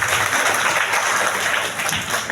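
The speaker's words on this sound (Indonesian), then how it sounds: "Ini tepuk tangan dulu buat kita." An audience at a government seminar applauds steadily, a dense wash of many hands clapping at once with no pause.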